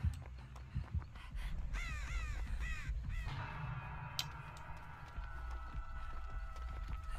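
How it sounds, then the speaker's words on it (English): Crows give a few harsh caws in the horror game Dead by Daylight. The caws sit over low rumbling ambience, and a faint tonal hum follows. "He's confused about the crows."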